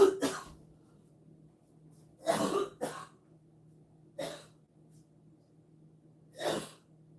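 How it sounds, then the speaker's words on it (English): A person coughs in several separate bursts, a double cough then single harsh coughs spaced seconds apart, close by against quiet background hum. "I'm gonna try to cough a little bit of this out"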